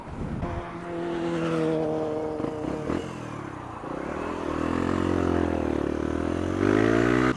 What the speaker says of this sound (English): I can hear that bike already.